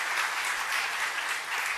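An audience at a devotional morning satsang claps hands together, a dense, continuous burst of applause at steady moderate loudness with no voices.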